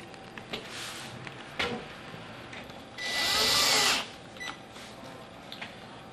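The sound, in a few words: screws being driven into cabinet base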